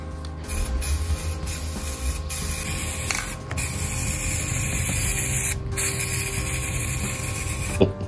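An aerosol spray paint can hisses continuously and close up while coating a part for a BMW 318tds E36, the steady spray broken by a few short gaps and valve sputters, with no voices.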